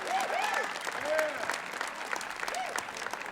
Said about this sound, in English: Big round of applause once again, the cast.